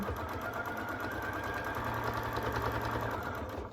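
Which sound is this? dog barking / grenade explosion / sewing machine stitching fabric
sewing machine stitching fabric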